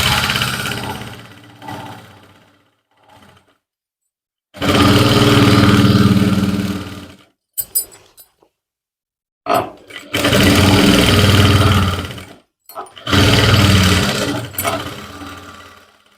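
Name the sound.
sewing machine stitching trouser belt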